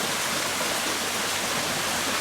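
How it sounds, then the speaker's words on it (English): A small garden waterfall at a resort in Nepal pours in a steady, dense, close rush of splashing water that fills the whole moment with no pause or talk. "A nice little waterfall feature here."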